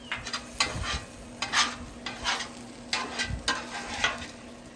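Vegetables for a smoked bacon and corn dip soften in a hot pan, crackling in a light sizzle punctuated by frequent scraping stirs and utensil taps, close up and without talk.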